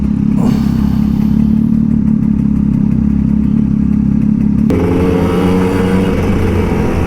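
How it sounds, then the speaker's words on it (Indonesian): A big motorcycle engine revs loudly alongside a Kawasaki Ninja RR 150 on a city road, a steady deep engine roar that shifts pitch midway as the throttle changes, with no talk. "Yuk, digeber sama moge."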